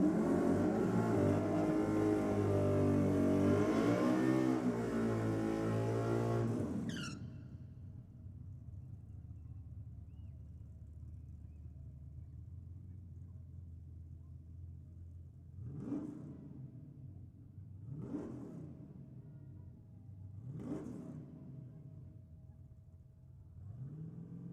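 At a night drag racing event, a Nissan and a VH Commodore roar loudly at full throttle, then the noise cuts away, leaving a low distant rumble with a few short engine revs rising and fading.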